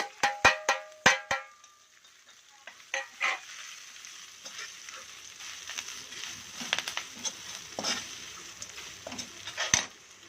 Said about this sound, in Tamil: நம்ம திருவி வச்ச தேங்காய் அதுக்கப்புறம் கரம் மிளகா கருவேப்பிலை எல்லாத்தையும் போட்டு எண்ணெயில் நல்லா பொரிச்சிக்கலாம்